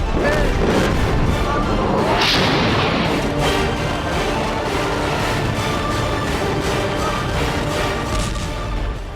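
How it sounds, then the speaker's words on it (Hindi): Repeated heavy booms and crashing blasts of artillery shells in a dense, continuous barrage during the Armenia–Azerbaijan war, loud and rumbling throughout. "ये धमाके देखिए, आर्मीनिया के दागे बारूदी गोलों के धमाकों के बीच"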